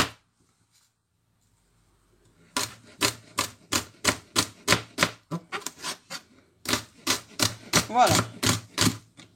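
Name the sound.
knife finely chopping fern leaves (misili)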